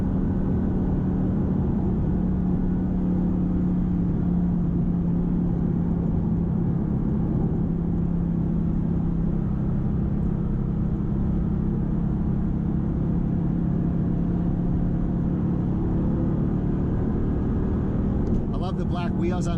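Mercedes-AMG GT S V8 engine pulling hard from inside the cabin, a loud steady rumbling drone with a droning pitch that rises and holds, ending with a few sharp pops.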